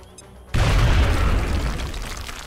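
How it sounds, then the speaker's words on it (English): A grenade goes off in the tactical video game XCOM: Enemy Unknown: after a brief quiet lead-in, one loud, close, deep boom erupts and rolls into a long, slowly fading rumble. "Grenade out."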